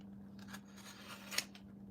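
A sharp handheld cutting tool slices into an eBay package, making a few quiet scraping cuts with a crisper snick near the end, over a steady low hum.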